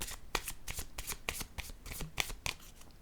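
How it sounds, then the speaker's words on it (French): Oracle cards shuffled and riffled by hand in a rapid run of crisp flicks and slaps, close and steady, with no speech over it. "J'ai besoin de piger une carte sur ces deux-là"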